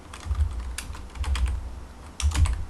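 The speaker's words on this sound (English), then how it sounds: "so let's type" Keys clatter on a Commodore 64 computer keyboard in short bursts of close, crisp typing, with brief pauses between runs of keystrokes and no talking.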